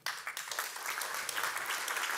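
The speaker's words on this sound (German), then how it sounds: "Einen großen Applaus für Herrn Siechau." A conference audience at a keynote stage bursts into applause, a dense, continuous patter of many hands clapping that starts abruptly and stays even throughout.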